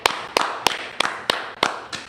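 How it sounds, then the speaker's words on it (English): A class clapping for an officer, sharp claps falling in a steady rhythm of about seven in two seconds, fairly close and clear with no talk over them. "Clap it up for the officer, man."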